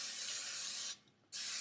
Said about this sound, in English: we're going to use our cooking spray